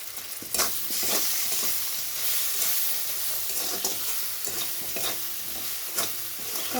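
Salt, turmeric, cumin-coriander powder, ginger paste and tomato are stir-fried in a pan, with a steady close sizzle and irregular scraping stirs over about seven seconds, free of talk.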